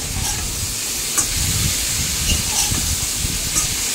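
Pieces of moringa drumstick added to hot oil with fried potatoes hiss steadily in the pan, with occasional light clinks of stirring and no talk.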